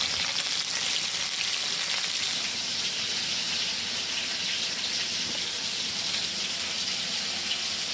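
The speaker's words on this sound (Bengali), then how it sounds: "আমি বোয়াল মাছটা হালকা ভেজে রান্না করব" Boal fish frying lightly in a pan, a steady loud hiss and sizzle of hot oil that stays unbroken throughout, close up, with no talk.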